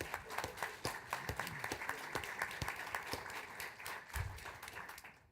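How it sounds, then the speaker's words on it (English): An audience at an afternoon panel applauds after a sermon, giving steady, fairly faint clapping with scattered sharper claps throughout. "Not often that sermons get applauded."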